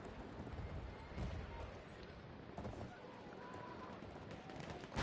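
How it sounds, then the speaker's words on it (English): A horse gallops in a multiplayer battle game, the hoofbeats a steady clip-clop running under a dense, busy mix of game noise and faint voices. "There's a horse on Law's side."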